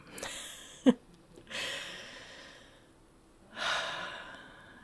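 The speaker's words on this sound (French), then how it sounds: "on respire, mes amis" Deep breaths taken during a relaxation exercise at a talk, three long audible exhales and inhales with a sharp snort-like intake early on, close and unaccompanied by speech.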